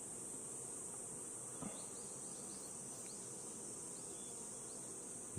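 Young honeybees buzz softly inside a hive during the egg-laying season, a steady, faint, continuous hum with no voices.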